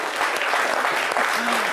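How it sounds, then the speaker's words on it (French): A studio audience applauds loudly for guests on a midday television show, a dense, sustained wash of clapping at steady volume throughout, with a faint voice briefly audible beneath it. "Merci d'applaudir très fort Agoulet et Mahan Edgar"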